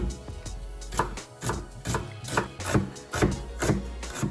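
A knife chops onions on a wooden cutting board in a steady rhythm of close, firm thuds, roughly three to four cuts per second, with no talking.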